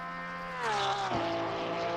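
A race car engine in Assetto Corsa Competizione revving, its harmonic whine sliding down in pitch as it shifts and then steadying, loud and close over a constant roar.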